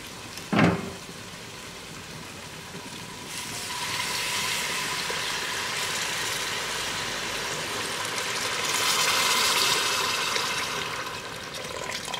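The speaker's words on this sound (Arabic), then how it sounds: "غادي نزيد الماء" Water poured into a pot of chicken that was frying with onion in a Moroccan home kitchen, heard as a sharp splash and hiss at the start, then a steady, fairly loud rushing and bubbling that swells toward the end, with no talk.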